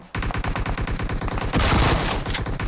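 Rapid automatic gunfire in the mobile shooter PUBG Mobile, with loud, close bursts of evenly spaced shots that thicken into heavier sustained fire midway through.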